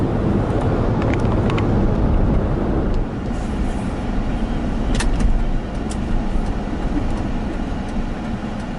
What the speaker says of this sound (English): So I'm going to continue driving here.